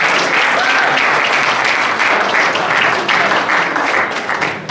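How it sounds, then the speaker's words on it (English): An audience at an academy awards night gives a loud, sustained round of applause, dense close clapping that fills the room and fades slightly at the end. "So another big round of applause for both of them."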